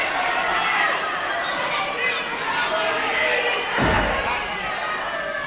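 Crowd at a professional wrestling match between two wrestlers roaring and cheering steadily, with a thud from the ring partway through and a commentator talking over the noise.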